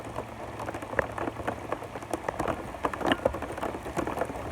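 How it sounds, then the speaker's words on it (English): Heavy spring rain pours down during a kayak fishing trip, a dense, steady hiss of drops pattering on surfaces close by, with no voices. "It's raining so hard."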